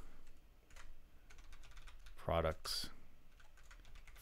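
Brief burst of keyboard typing while renaming a folder on a computer during setup of Oracle REST Data Services, a quick cluster of key clicks amid faint room noise and a spoken word.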